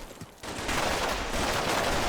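Gunfire in the Combat Mission Shock Force 2 war game: after a brief quiet moment, a dense, sustained crackle of rifle and automatic fire rolls on steadily at a moderate distance, with no voices.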